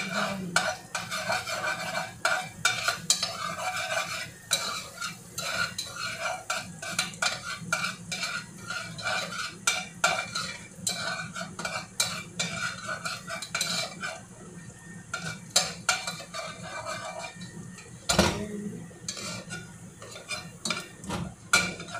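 Garlic browning in oil in a frying pan, a continuous close sizzle broken by frequent clinks and scrapes of a utensil stirring against the pan, with no talk.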